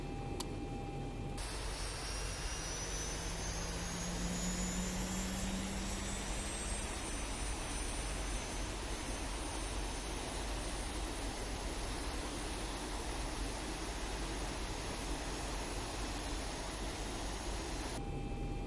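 A Boeing 737 jet engine spools up during start in the ZIBO mod flight simulator, with a steady broadband roar and a whine that rises and climbs in pitch. The sound holds loud and constant for about eighteen seconds.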